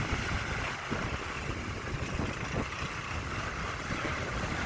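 A fishing boat engine running in reverse churns steadily under heavy wind and water noise, a continuous low rumble with no voices.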